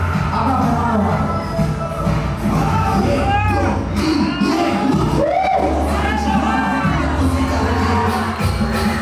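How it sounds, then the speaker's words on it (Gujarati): Crowd cheering and shouting for guests at a Bhil tribal community gathering in Gujarat. Dense, loud, continuous whoops and yells fill the space, with voices rising over the din and little distinct clapping. "તાળીઓ વગાડો, તાળીઓ ઓછી ના થવી જોઈએ આપણા મહેમાનો માટે."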